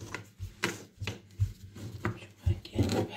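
A knife cutting food for batbout, Moroccan flatbread, on a board, with a series of soft irregular chops and scrapes under quiet talk.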